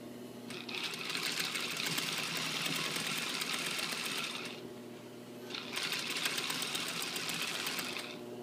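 A sewing machine stitches a front zipper fly in two continuous runs of rapid, even stitching, close and clear, separated by a short pause.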